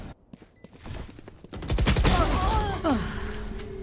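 Rapid gunfire bursts in a Valorant tournament round, a flurry of shots building into dense, loud volleys with distant pops, over a steady game backdrop and some voice.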